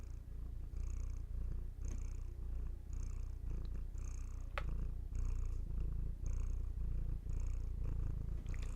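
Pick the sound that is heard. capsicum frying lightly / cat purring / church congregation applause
cat purring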